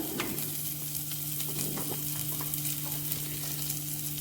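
Green chillies and curry leaves sizzle steadily in hot oil in a pan, a close, continuous frying crackle with a constant low hum beneath, no voices.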